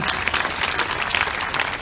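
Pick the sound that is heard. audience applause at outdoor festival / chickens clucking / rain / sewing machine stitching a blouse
audience applause at outdoor festival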